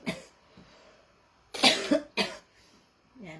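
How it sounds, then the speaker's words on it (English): A person coughs several times in short, harsh bursts, with quiet pauses between them and a brief voice at the end. "I'm starting to cough, excuse me"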